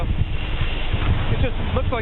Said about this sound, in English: some type of sideways cyclone that's coming down here with these gusts